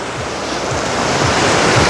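Rough sea surf crashes continuously on the beach at Anapa's resort centre during a storm, a loud steady roar of waves mixed with gusting wind buffeting the microphone.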